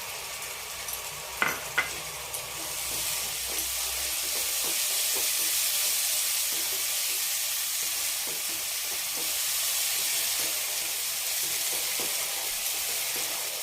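Two tomatoes' worth of tomato paste sizzles and fries in hot oil with turmeric, a steady close hiss throughout, punctuated by a few clinks and scrapes of stirring early on.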